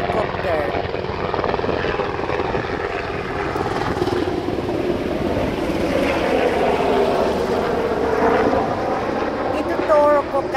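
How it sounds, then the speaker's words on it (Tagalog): A helicopter drones loudly and steadily overhead at a workplace, its rotor throb and engine noise continuous throughout, with brief talk underneath. "Ayan, helicopter."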